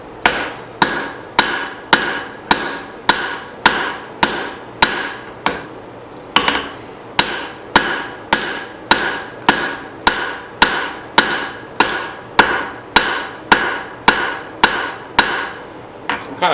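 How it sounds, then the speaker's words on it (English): A cross peen hammer forges a small axe head on an anvil, striking loud, sharp, ringing blows at a steady rhythm of roughly one every half second, about two dozen in all, close by. "I'm going to try to widen front of the little axe here with the cross peen."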